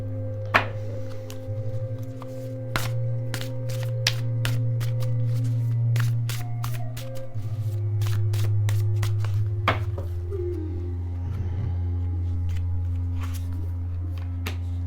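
Tarot cards shuffled and drawn by hand, giving repeated sharp card snaps and soft shuffling over a steady low hum in a quiet room.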